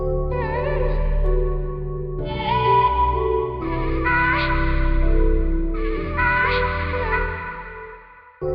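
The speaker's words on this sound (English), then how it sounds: "Add a reverb." A synth melody plays a few sustained phrases with a wide, echoing reverb tail, ending abruptly near the close.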